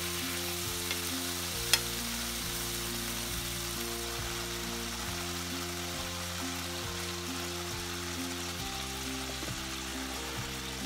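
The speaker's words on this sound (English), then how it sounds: "We wait until the butter in the pan is completely melted and heated to temperature" Butter melts and sizzles in a hot, overheated pan ahead of frying an egg: a soft, even hiss running continuously beneath a steady tonal hum, with one brief sharp tick early on.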